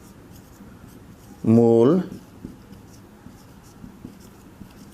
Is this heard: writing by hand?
yes